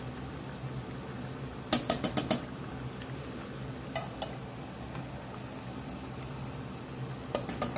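Canned beans, sauce and all, pour into a pot of Southwest-style cowboy stew with chopped tomatoes, giving faint wet plops and a few sharp metallic clinks of can and spoon against the pot, with no talking.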